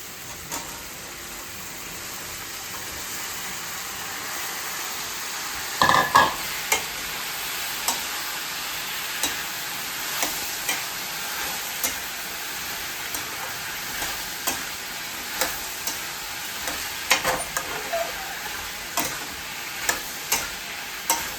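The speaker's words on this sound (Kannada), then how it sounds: "ಇದನ್ನ ಚೆನ್ನಾಗಿ ಮಿಕ್ಸ್ ಮಾಡ್ಕೊಬೇಕು" Food fried in a pan is stirred and mixed, giving a steady close sizzle under repeated light scraping and tapping of a utensil against the pan, with one louder clatter early on.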